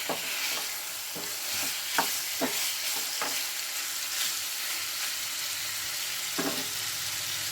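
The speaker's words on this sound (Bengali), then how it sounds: "তেলের মধ্যে আমি বেশ কিছুক্ষণ ভালো করে নেড়ে নিচ্ছি" Chicken is stirred in hot oil in a pan, with a steady sizzle under a series of sharp utensil scrapes and clicks, several of them in quick succession and one more near the end.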